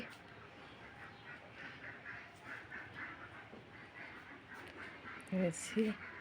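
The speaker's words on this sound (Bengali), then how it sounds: "আমার অনেকগুলো হাঁস আছে, মুরগি আছে" A couple of loud duck quacks burst out near the end, over a steady background of noise, at a village home.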